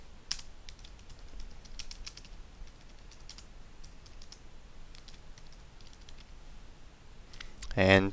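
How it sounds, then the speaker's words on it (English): Username typed on a computer keyboard for a Twitter message, heard as scattered soft key clicks in short bursts, with a louder clatter near the end. "and then we type the username"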